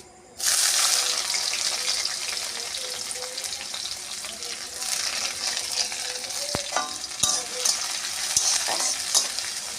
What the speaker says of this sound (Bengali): কালো জিরে একটু ভাজা ভাজা হলে তারপর আমি পেঁয়াজগুলো দিয়ে দেব